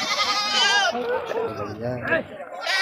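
Goats bleat loudly and close up at a crowded goat market, with wavering calls overlapping continuously while people talk nearby.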